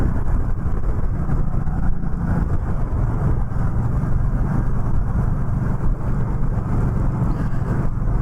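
A 2020 Indian Scout Bobber Sixty motorcycle cruises at about 45 mph, its steady low engine drone buried in constant loud wind rush for the whole stretch.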